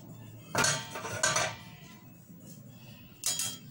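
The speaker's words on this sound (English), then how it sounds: "I'm going ahead to use a strainer to strain it" Boiled garlic water is strained through a kitchen strainer. Three bright metallic clinks and scrapes of the strainer against a pot or bowl come close, the last one about a second after a short pause.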